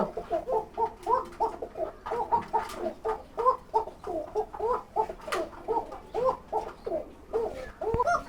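Pigeons (kuka) on a Bangladeshi pigeon farm coo steadily, a dense overlapping chorus of repeated rhythmic calls from several birds close by, with no talk.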